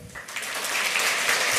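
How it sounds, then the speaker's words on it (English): A conference crowd begins clapping for a speaker about to give a talk on the Atari 2600; the applause swells from quiet to full and steady within a second and a half. "Give him a huge round of applause."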